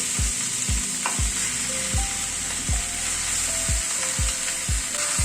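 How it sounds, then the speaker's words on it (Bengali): Chicken frying with tomato, ground spices and vegetables such as papaya and carrot, a loud constant sizzle with regular thumping stirs and scrapes roughly every half second, no voices. "চিকেনটাকে দিয়ে মশলা ও সবজির সাথে মিশিয়ে নিচ্ছি।"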